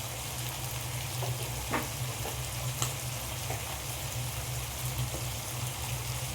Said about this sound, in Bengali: দিয়ে ভালো করে আমি চিকেনের সাথে কষিয়ে নেব মশলা